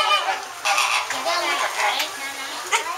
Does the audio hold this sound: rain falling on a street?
no